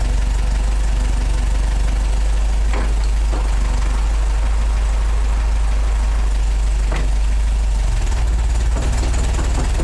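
An MGA 1600 roadster engine with an inexpensive exhaust idles loudly and steadily with a deep, throbbing low end, a few faint clicks and knocks sitting on top of it.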